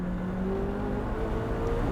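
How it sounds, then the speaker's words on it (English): McLaren 675LT supercar with a titanium exhaust, its engine droning steadily and loudly for the whole stretch with rising harmonic tones, no voices over it. "It absolutely screams in the high RPM ranges with that titanium exhaust."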